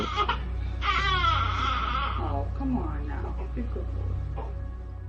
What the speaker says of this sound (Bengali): বাচ্চার কান্নার শব্দ,